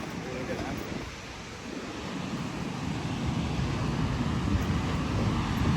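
Ocean waves break on a beach with a continuous hissing surf and low rumble that slowly swells louder, mixed with wind noise.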